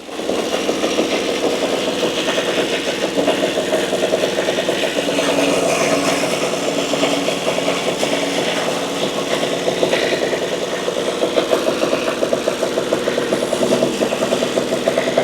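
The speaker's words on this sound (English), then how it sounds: "The crew lets the pony motor run longer this time, hoping it's enough to kick the big engine awake" The small diesel pony motor of a Caterpillar Diesel 70, idle for 60 years, chugs continuously with a rapid, even knock, running steady and close for the whole stretch.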